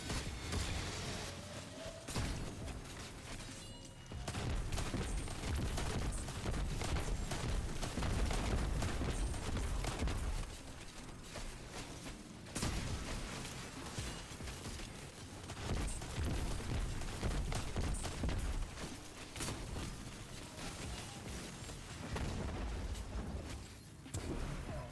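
Sustained Destiny 2 weapon fire from an Edge Transit grenade launcher and a honed-edge sniper rifle, a dense, continuous barrage of booms and shots with brief dips between volleys.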